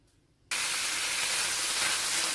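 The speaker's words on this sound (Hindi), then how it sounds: "चिकन यहाँ पे फ्राई हो रहा है" Chicken frying in a pan gives a loud, steady hiss that bursts in abruptly and holds at full strength, close by.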